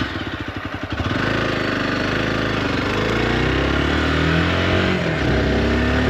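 A motorcycle engine runs loud and close, a steady mid-pitched drone with a brief rougher pulsing at the start, then holding an even, continuous note without any talking.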